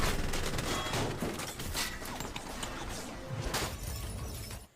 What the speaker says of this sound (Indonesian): Lalu terjadilah baku tembak dan kejar-kejaran antara Wei Hung, polisi, dan Makaupak.